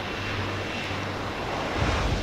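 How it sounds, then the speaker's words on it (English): Aircraft passing overhead in the video game Deus Ex: Human Revolution, a loud, steady engine roar that swells slightly toward the end, with no talk. "And you get weird flying things. Planes."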